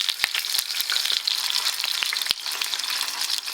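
Roast beef lightly searing in a hot pan gives a steady, close sizzle with scattered sharp pops and crackles and no voices.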